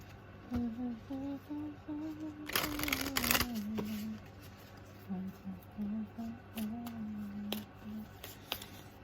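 A brief burst of a tarot deck being riffled and shuffled, about a second long, set between stretches of quiet talking.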